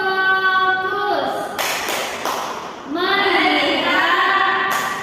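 A school class claps a rhythmic 'tepuk fokus' pattern together, with sharp, close hand claps and taps mixed with children's chanting voices.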